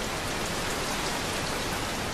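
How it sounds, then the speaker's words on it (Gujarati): Heavy rain pours down in Bharuch, Gujarat, a dense, unbroken hiss of drops striking surfaces, steady and enveloping with no voices. "ધોધમાર વરસાદથી વાતાવરણમાં ઠંડક પ્રસરી ગઈ છે"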